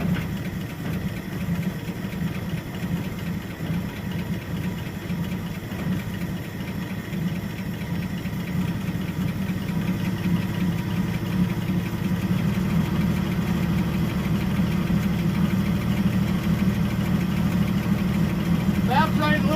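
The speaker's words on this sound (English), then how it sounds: "Got an exhaust leak." A 1976 Ford truck engine idles with a steady rumble and a rough, puffing exhaust note from an exhaust leak, running continuously at close range for the whole stretch.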